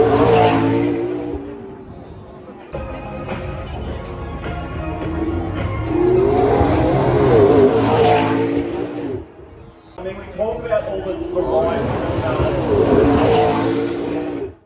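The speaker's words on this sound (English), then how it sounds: "we've got what I would say is the most iconic classic supercar of all time, the Ferrari F40" A Ferrari F40 supercar at the Canberra Festival of Speed 2024 roars loudly and close, its engine note rising and falling through several hard revs with a brief dip near the middle, under faint crowd and voice noise.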